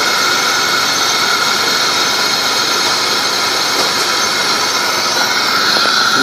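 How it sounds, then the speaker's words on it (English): The engine of a 2003 Chevrolet Monte Carlo SS makes a loud, steady, broadband roar with a whooshing rush from the airbox housing, unbroken and without talk. "Noise coming from the airbox housing."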